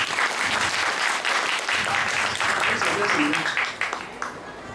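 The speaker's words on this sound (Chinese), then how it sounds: "写的还不赖了哈，给我们掌声好不好？" Audience applause at a live band concert at Tiehua Village in Taitung, a dense burst of clapping from the crowd that holds steady and then thins toward the end, with a voice briefly heard over it.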